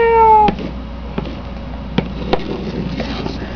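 A person imitates a cat with a single short meow at the start, followed by a few faint knocks and taps in a quiet room.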